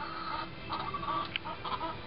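A few chickens cluck softly and intermittently, short murmuring calls over a faint steady background hiss.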